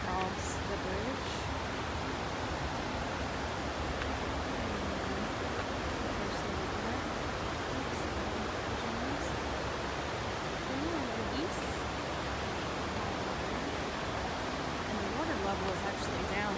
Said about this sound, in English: these rapids are called Hollywood Rapids